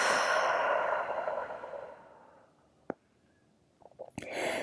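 A deep, slow exhale through an open mouth during a breathing exercise, loud at first and fading over about two seconds, followed by quiet and a couple of soft breathy sounds.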